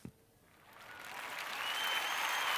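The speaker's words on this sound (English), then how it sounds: "I think it deserves a round of applause, don't you?" Studio audience applause on a live variety show, starting with a sharp first clap and swelling into steady, dense clapping that grows louder over a couple of seconds.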